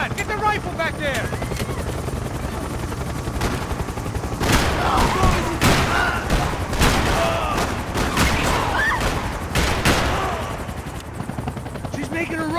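Rapid bursts of gunfire in the video game Max Payne, loud and close over a constant helicopter rotor drone, with shouting voices between the volleys.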